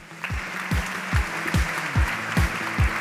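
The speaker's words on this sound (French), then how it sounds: "Patricia Beausoleil, soyez la bienvenue, on peut vous applaudir, et Emmanuel Demazière." An audience at a corporate sustainability conference applauds to welcome the speakers, a steady hiss of clapping layered over a regular, thumping bass beat that pulses roughly twice a second.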